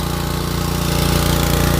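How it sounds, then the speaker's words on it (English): A Karcher pressure washer runs close by while seeding equipment is cleaned on a farm, producing a loud, steady, rapidly pulsing motor drone throughout. "That's the pressure washer. Just a Karcher."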